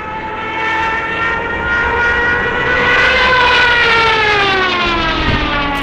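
Wailing siren of a Junkers Ju 87 Stuka dive bomber, the World War II German aircraft: a loud, sustained howl that rises steadily in pitch over several seconds and then begins to fall, heard on its own.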